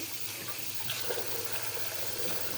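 A tap runs steadily into a sink while a child washes hands and mouth. The water makes a constant close hiss and splash, with slight shifts as the flow is disturbed.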